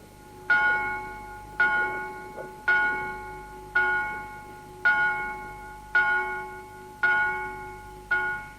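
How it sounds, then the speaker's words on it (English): A church bell in Bethlehem tolls eight times in a slow, steady rhythm, each strike ringing out and fading before the next, clear and fairly close. "those are the bells of Bethlehem that you're listening to"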